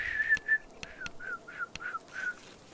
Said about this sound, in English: I also can't change notes even when I can get whistling sounds to happen